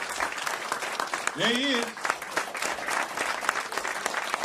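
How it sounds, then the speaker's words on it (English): A gathered crowd of men claps steadily through the clip, a dense patter of applause that carries over a voice speaking briefly in the middle. "Let's clap up for him, brothers."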